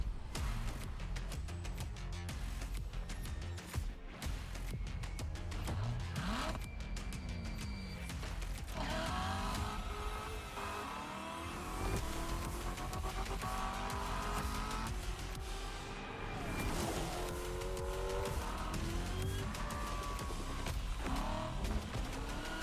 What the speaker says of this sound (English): Corvette.